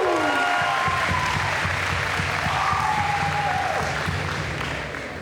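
A ballroom audience at a host and hostess contest claps loudly and steadily for several seconds, a dense crowd applause that eases slightly toward the end, with faint voices mixed in.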